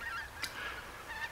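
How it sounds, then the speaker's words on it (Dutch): Geese calling in open countryside near water, a few honks close by over a steady outdoor background. "De ganzen strijken hier neer."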